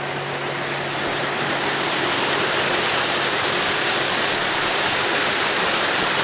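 A waterfall at a temple swollen after heavy rain, a loud, steady roaring rush of falling water, close and continuous with no voices.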